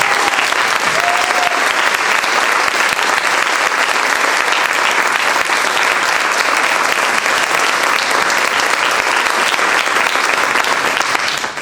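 A large audience at a presentation of selected historical stories from a 2019 contest gives the five presenters a long, loud, unbroken round of applause, dense clapping holding steady for over ten seconds.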